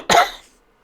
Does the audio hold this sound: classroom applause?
no